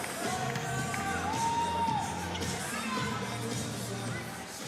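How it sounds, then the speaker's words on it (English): Basketball crowd at the Key Centre cheering steadily through a WNBL game between Sydney Flames and Adelaide Lightning, a broad, sustained roar with a swell in the middle and a commentator's voice running over it. "And the crowd loving it here at the Key Centre."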